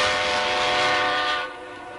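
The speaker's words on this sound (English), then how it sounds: "Ah, here's the train now." A train pulling into a railway station, a loud broad rushing rumble with a horn-like tonal drone that fades slightly after a moment, heard up close without talk.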